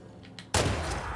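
A gunshot rings out in the video game The Last of Us Part II: after a quiet lead-in, one sudden loud crack bursts in and leaves a sustained noisy wash trailing behind it.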